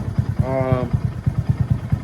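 A Honda Grom motorcycle, revived after sitting underwater for 24 hours, idles up close with a rapid, even chug and a brief tonal whine partway through.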